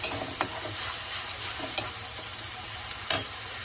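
Fish curry masala for rui fish kalia with curd being stirred in a pan over high gas, a steady sizzle broken by several sharp scrapes and clicks of the spoon against the pan.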